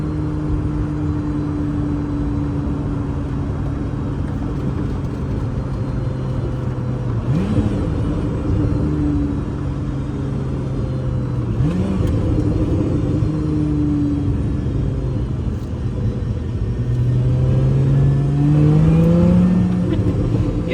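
A Lotus Emira, a mid-engine sports car, is driven hard on a race track, its engine droning steadily and rising in pitch through the gears, with a loud rumble throughout and a surging climb near the end.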